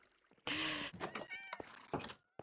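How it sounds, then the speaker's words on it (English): Minecraft cats meow several times in a row inside a player's apartment building, close and fairly loud, each cry a short rising-and-falling call, with soft game ambience between them. "Someone spawned cats in here."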